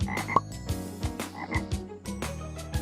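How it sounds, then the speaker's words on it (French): A toad caught in a garden croaks in several short, throaty calls spaced through a few seconds, set among other tonal sounds with no voices. "Elle a attrapé un crapaud"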